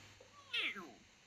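A person imitates a cat with a single drawn-out meow, short and fairly close, alone.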